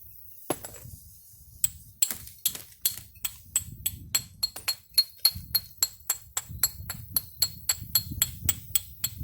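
A rock striking the bottom of a glass bottle during knapping, a series of sharp, close glassy taps and clinks that quicken into a fast, regular run of hits, with no talking.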